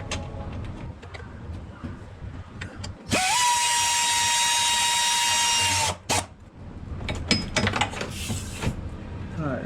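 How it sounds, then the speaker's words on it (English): An air ratchet drives transmission bolts on a 2014-19 Ford Escape 2.0, a loud whirring burst of about three seconds that stops abruptly, framed by clanks and shop noise. "put my air ratchet in there"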